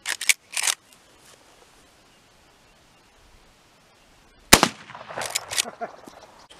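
Shots from old Winchester .22 rifles: a couple of sharp cracks at the start, a quiet gap, then one loud close shot followed by rattling, clicking handling noises.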